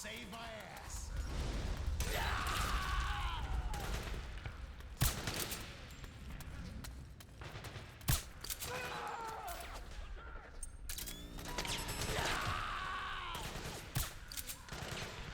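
Gunfire in the PS3 game Metal Gear Solid 4: Guns of the Patriots, with sharp shots cracking at intervals over a busy battle din while someone talks throughout.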